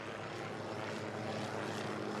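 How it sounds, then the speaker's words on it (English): Military helicopters pass overhead, a steady, loud, continuous rotor and engine drone that stays even throughout with no talk. "There are some military choppers flying above us right now."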